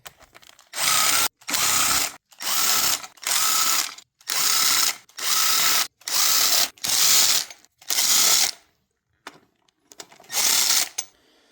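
A ratchet removes timing cover bolts from a leaking Jeep Liberty 3.7L engine, giving nine loud close bursts of rapid clicking in steady rhythm, a short pause, then one more burst.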